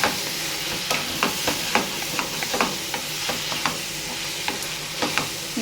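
Bottle gourd curry stirred in a pan, a spoon scraping and knocking in repeated irregular strokes over a steady sizzle of frying, close and clear with no talking.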